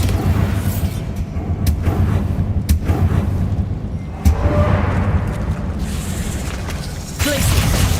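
Spell blasts from a Harry Potter video game, including the Bombarda explosion, thud and boom repeatedly over a dense rumbling background, with sharp bursts and whooshes scattered throughout.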